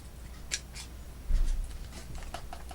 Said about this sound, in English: Let's cut off this piece right here.